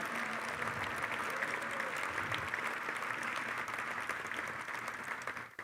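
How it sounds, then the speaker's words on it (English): Sustained audience applause at an anniversary thanksgiving tribute gathering, a dense even roar of many hands that holds steady for several seconds before slowly thinning at the end, with faint voices beneath. "If we can just give her a round of applause."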